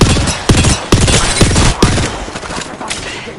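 Rapid gunfire in a shooter video game, loud repeated bursts of shots at a steady rhythm close in the foreground with no talk.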